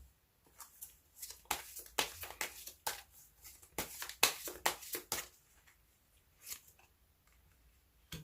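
Tarot cards are shuffled by hand before a draw, a quiet run of quick papery riffles and flicks in uneven bursts, then a few softer taps toward the end.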